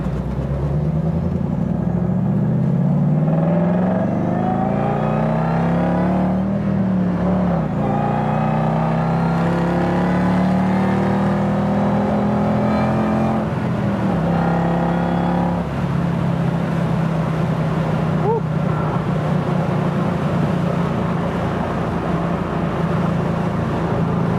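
A 1967 Ford Mustang restomod cruising down the road, its engine a loud continuous drone from the cabin, with rising and falling pitch as it pulls through the gears and settles into a steady fifth-gear hum.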